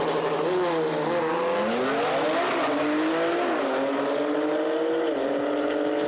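Two drag racing cars launch together at a season-final event in Odesa, their engines roaring loud and close with rising, shifting tones over the full stretch, with faint tire squeal.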